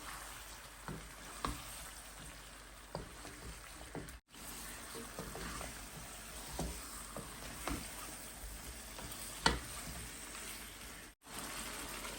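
Chicken pieces frying in a spiced masala, giving a steady crackling sizzle with scattered pops and small bursts, close by and continuous, with two brief dropouts.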